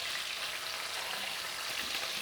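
Meat sears in a pan for a Turkish-Bavarian braise, giving a steady, dense sizzle and crackle that holds at an even level throughout with no voices.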